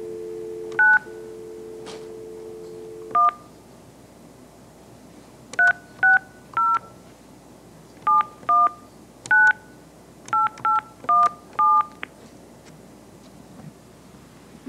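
Telephone keypad tones in short, evenly clipped beeps, a dial tone at the start, then about fifteen crisp dialing tones in irregular clusters, clear and close with no talk.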